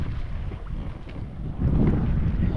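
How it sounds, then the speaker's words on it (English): Steady wind buffets the microphone while a sailboat moves under sail alone in the Baltic Sea, engine off, with a broad rumbling wash that swells louder partway through; no voices. "It's doing a lovely sail now without the engine."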